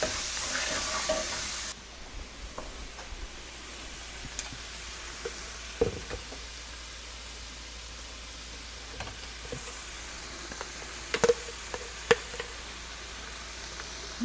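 Vegetables sizzle steadily in a hot skillet for a Creole-style dish, a low constant hiss with scattered scraping and stirring knocks throughout, alone without talk.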